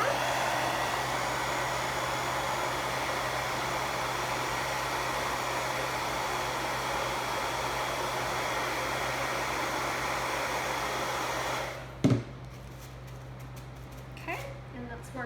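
A handheld dryer blows steadily on a low-budget craft project, a loud, even rushing drone that cuts off abruptly near the end, leaving a quiet room with a few small knocks.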